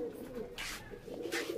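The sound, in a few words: pigeons cooing in loft cage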